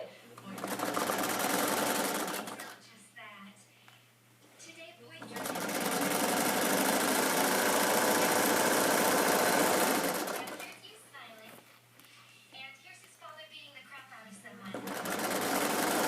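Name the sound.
sewing machine stitching a kick plate seam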